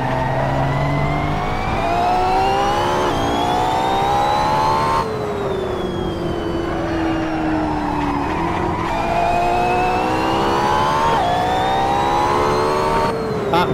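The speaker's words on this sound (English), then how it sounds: "Absolutely brutal power in this Ferrari. You put your foot down, it's so fast." A Ferrari in a racing video game at Laguna Seca accelerates hard. The engine screams as it rises in pitch through several gears, with sudden drops at each upshift. It stays loud and close throughout, with no talking.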